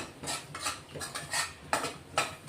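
Flour roasting in a pan for malai palak, stirred over the heat until reddish; about five rhythmic scraping strokes sound close, with a faint dry rustle between them and no voices.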